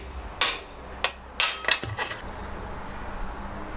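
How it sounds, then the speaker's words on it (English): Several sharp metallic taps from a steel hammer knocking a bicycle headset cup out of a frame, four or five quick strikes close by, loud and ringing briefly, then quiet. "a couple of taps with a steel hammer and it came straight out."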